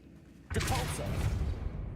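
Depulso force spell cast in the video game Hogwarts Legacy: a sudden whooshing burst that swells and sustains with a rumbling low body, fairly loud and alone after a quiet lead-in.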